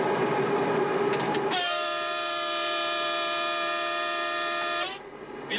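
A train descends a downhill slope under combined motor and electric braking: a rumbling run, then a loud, steady, sustained tone holding for about three seconds before it cuts off abruptly into quieter running noise.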